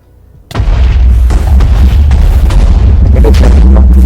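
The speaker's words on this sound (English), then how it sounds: "Let's wait for it to do the explosion." A loud, booming explosion in Minecraft bursts in suddenly after a quiet moment, followed by a long rumbling roar that stays heavy to the end.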